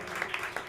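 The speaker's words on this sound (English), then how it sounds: "I noticed the applause died down distinctly right about that time" An audience applauds after a comedy set, scattered clapping that is fairly faint and thin and trails off quickly.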